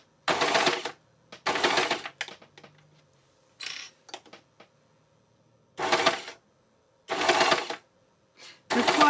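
An overlocker sewing machine stitches through fabric in short, rapid, chattering bursts. About five close, fairly loud runs of stitching are separated by quiet pauses with a few small clicks.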